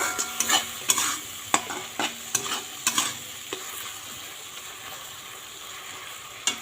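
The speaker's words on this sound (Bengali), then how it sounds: "মশলাটা এখন ভালো করে কষিয়ে নেব" Ginger, cumin and green chili paste is stir-fried in a pan for a katla fish curry, with a run of sharp scraping strokes over a steady, close sizzle.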